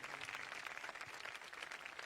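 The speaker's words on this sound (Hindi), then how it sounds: "आए खूबसूरत कलाम के लिए जोरदार तालियां बजा दीजिए" A church congregation claps after a sung piece, a soft, fairly distant, continuous wash of applause with no voices over it.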